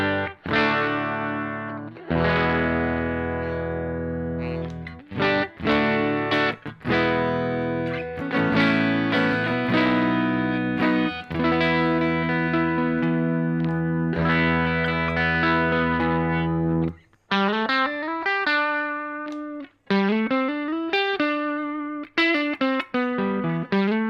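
An electric guitar plays through a Mesa Boogie Cab Clone in closed-back mode, first as loud distorted chords and riffs, then as brighter, cleaner notes with short gaps between phrases.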